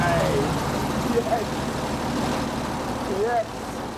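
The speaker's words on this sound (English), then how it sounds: "There's the starter motor solenoid." The 150 horsepower engine of a 90-year-old tracked vehicle cranks and runs with a loud, steady close rumble, with whining tones that rise and fall on top of it.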